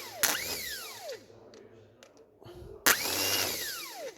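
A car starter motor, out of the car and wired to a battery pack on a bench, whirs loudly in two separate runs. Each run starts with a sharp jolt and then spins down with a falling whine.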